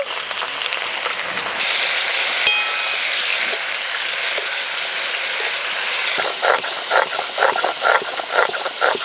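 Potatoes frying in a pan with ridge gourd and salt: a loud, steady close sizzle throughout, growing in the latter part into rhythmic scraping and stirring bursts.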